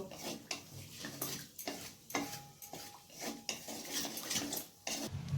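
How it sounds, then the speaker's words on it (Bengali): Dried red chillies and whole garam masala stirred in hot oil in a pan for a Bengali rui fish kalia, soft spoon scrapes and clinks over a low sizzle, close and quiet, with no talking. "এরপর আমি ওই তেলে দিয়ে দেব শুকনো লঙ্কা আর গোটা গরম মশলা, ফোড়ন দিয়ে দিলাম। এরপর আমি 10 সেকেন্ডের মতো নাড়াচাড়া করে নেব।"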